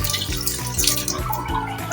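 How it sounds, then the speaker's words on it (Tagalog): Tap water running into a cooking pot for a Filipino pork bone soup, a close, continuous gush and splash with shifting tone as the pot fills. "Lagyan natin ng tubig. Kulang pa daw po yung tubig."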